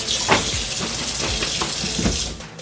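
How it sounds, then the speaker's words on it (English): Running water rinsing lettuce leaves in a kitchen, a steady close rushing hiss with occasional splashy rustles as the leaves are moved under the stream, stopping abruptly at the end. "we're gonna put it in here and we're gonna rinse them off and clean them off and everything"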